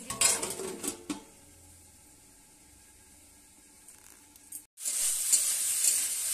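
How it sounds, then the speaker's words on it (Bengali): A metal lid clatters onto a cooking pot of beetroot, carrot, potato and beans over a low-to-medium gas flame, with a rattle at the start and another near the end, followed by steady sizzling. "আবারও ঢাকা দিয়ে দিচ্ছি।"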